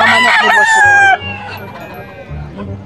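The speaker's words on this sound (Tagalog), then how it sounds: "puro stag, early bird ang mga manok ni Boss Rod." A rooster crows loudly and close at a gamefowl market in Bocaue, one drawn-out call followed by lower clucking and farm-animal murmur in the background.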